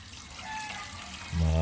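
Muddy water splashes and gurgles as it drains out of a water filter, with a thin whine in the background, then a sudden louder rushing gush near the end.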